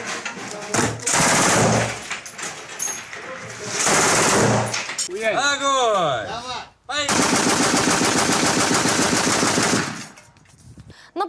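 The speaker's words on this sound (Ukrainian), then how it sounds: "Это наш командир стреляет." Rapid bursts of automatic gunfire in the Donbas conflict zone, loud and sustained, with pauses between volleys and a short stretch of shouting voices in the middle.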